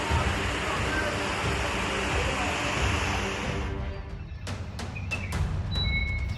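Powerful floodwater surging after a cloudburst, sweeping a scooter along: a dense, continuous roar of rushing water at close range that thins and shifts near the end with scattered splashes and knocks.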